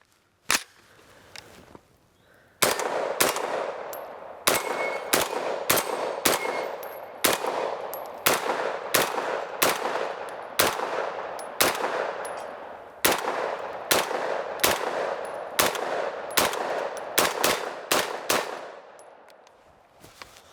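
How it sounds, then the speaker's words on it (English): An Extar EP9 Gen2 9mm pistol empties a 21-round Pmag outdoors at a range: roughly twenty sharp, loud shots, first two spaced, then a steady quick semi-auto cadence with brief gaps, no talking. "So let's get out to the range and get some shooting done now."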